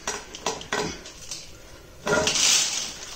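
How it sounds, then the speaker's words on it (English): A juniper bonsai tree is worked loose and lifted from its pot, giving a few short scraping knocks and a louder rough scrape of soil and pottery near the end, close by and with no talking. "just pop it out the pot like so, nice and easy"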